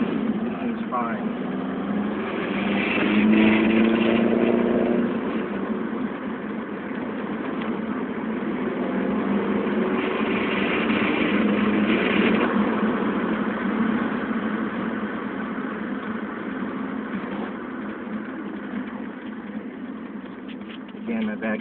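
A 1990 Volkswagen Corrado G60 1.8 turbo idles with a surging, fluttering boost problem, a steady close-up engine drone that swells and dips slightly, with someone talking over it.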